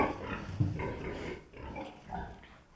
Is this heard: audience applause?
no